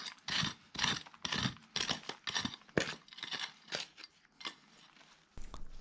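Old PVC pipe from a well pump is cut with a series of rhythmic rasping saw or cutter strokes, each a short burst, close up and fairly quiet.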